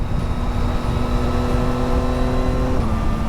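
A Yamaha Tracer 9 GT motorcycle with a quick shifter pulls along a quicker road, its engine a loud, steady, droning hum under wind noise. The tone shifts abruptly near the end, as at a gear change.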